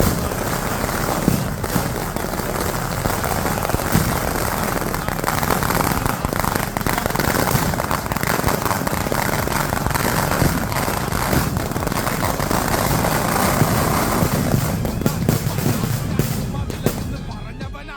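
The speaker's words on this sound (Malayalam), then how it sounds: "ഇനി ചെറിയൊരു വെടിക്കെട്ടാണ്" A small fireworks display at a chapel feast in Kerala: a dense, loud, continuous barrage of crackling bursts and bangs that goes on for about eighteen seconds before thinning at the end, with some crowd noise beneath it.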